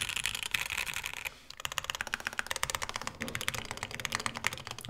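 Rapid clacky typing on a Mode80 mechanical keyboard with stock switches, close and crisp, with a brief pause before a fast run of keystrokes resumes.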